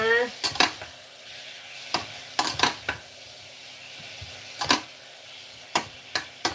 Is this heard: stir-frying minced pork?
yes